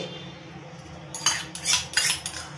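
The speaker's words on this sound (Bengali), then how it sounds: "গরম প্যানের উপর আমি আর একটা প্যান বসিয়ে দিচ্ছি।" Metal clinks and scrapes as one pan is set down on top of another, a few short clattering knocks close by.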